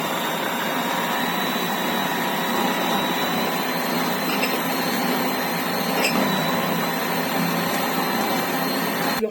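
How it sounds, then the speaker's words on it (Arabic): An electric grinder grinds bulgur wheat for hawawshi, giving a steady, dense whirring buzz that holds evenly with faint rattling from start to finish. "ننعم البرغل بتاعنا علشان خاطر زي ما قلنا ايه ما يظهرش الطعم عامه"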